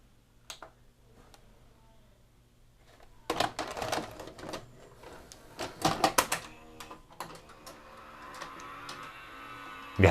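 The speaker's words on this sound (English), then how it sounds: "very noisy bearings in the cylinder motor" The cylinder motor of a Realistic Model 43 16-613 VCR with noisy bearings powers up into a rattling, ticking mechanical clatter that grows busier and louder after a quiet start.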